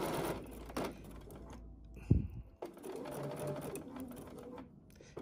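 Bernina sewing machine stitching in short bursts, a rapid mechanical whir with brief pauses and one sharp clunk, close and fairly quiet.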